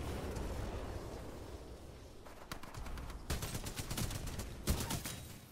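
Spitfire machine gun in Titanfall 2 firing in sustained rapid bursts amid dense game-battle noise, the rattle growing more prominent and punchy toward the end, with no talk over it.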